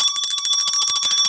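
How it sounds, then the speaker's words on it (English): The New York Stock Exchange's official closing bell rings loudly and continuously, a rapid metallic clanging at a steady fast rhythm that carries through the whole stretch. "let me give you the official closing bell of New York Stock Exchange."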